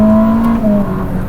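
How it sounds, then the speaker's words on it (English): Ferrari SF90 Stradale hybrid road car with twin turbos and rear exhaust, a steady loud engine drone with a sustained tonal whine, heard close and alone for a moment. "In here, I'm hearing turbo whistle, I hear the exhaust in the back."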